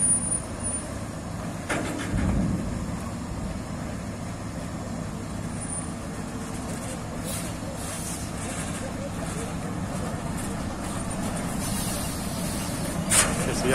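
A loaded yellow truck with a closed cargo body labours up a steep rural road, its engine a steady low rumble that holds throughout, with a brief louder passing swell near the start and people talking over it.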